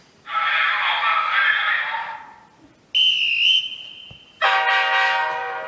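A Lego City passenger train horn blares three separate times, each a sustained tone lasting one to two seconds, loud and close, with quiet pauses between.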